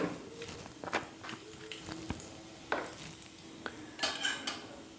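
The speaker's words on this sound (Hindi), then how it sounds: "तो ऑयल गर्म हो गया है, इसमें डालेंगे हम थोड़ा सा जीरा और थोड़ा सा हींग" Cumin seeds and asafoetida tipped into hot refined oil for a moong dal chilla filling, giving a light sizzle under scattered clinks and scrapes of a spoon against the pan.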